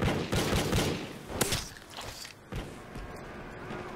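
Gunfire in the video game Call of Duty: Ghosts on the Sovereign map during a Gun Game match comes as rapid bursts of close shots, dense at first and then scattered, with footsteps and clanks between them.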